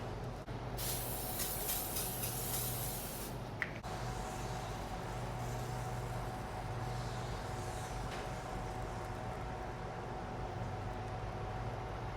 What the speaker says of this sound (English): I'm gonna hit it with a little spray